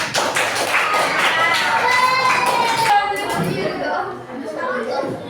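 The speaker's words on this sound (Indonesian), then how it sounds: "Tepuk tangan untuk kelompok berapa?" A class of students applauds a group after a presentation, a dense wash of clapping and tapping with voices and chatter mixed in throughout.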